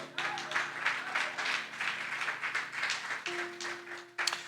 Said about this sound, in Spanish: Dale ese aplauso fuerte a Dios.